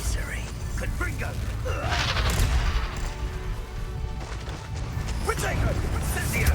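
Confringo fire spell blasts in the Hogwarts Legacy video game, crackling impacts and bursts layered over a dense, loud battle soundscape with game voices throughout.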